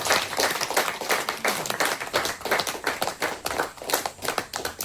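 A church congregation claps hands together in a steady, loud rhythm of many overlapping claps filling the room, with no talking.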